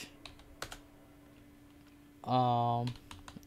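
CSS code is typed on a computer keyboard, with a few sparse, soft key clicks spread through a quiet room and a short spoken voice cutting in near the end.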